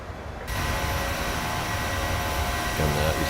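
A LOT Polish Airlines airliner cruises in Microsoft Flight Simulator 2020, a steady broadband cabin roar with a low engine drone that swells in after a brief quieter start.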